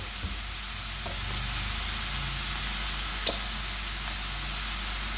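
Mixed vegetables sizzle steadily in a pan for a kabab recipe, a close, even hiss with a few soft stirring taps and clicks throughout.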